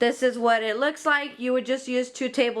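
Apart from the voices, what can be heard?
No everyday noises stand out.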